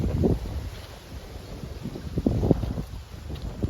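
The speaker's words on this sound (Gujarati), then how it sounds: "અત્યારે પવન એટલો બધો આવે છે" Gusty wind on a farm buffets the microphone in low, rumbling bursts, rising and falling unevenly.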